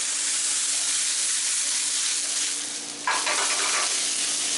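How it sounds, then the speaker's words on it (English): Sherry hits a hot pan of browning mushrooms with a loud, dense, continuous sizzle that dips briefly and then surges back into a fresh hiss. "I'm going to use the sherry that we're going to be sampling later to deglaze the pan."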